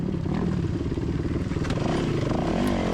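A dirt bike engine revs hard at a hare and hound off-road race, a loud, continuous rasping roar close by with a fluctuating pitch and rattling clatter, no voices.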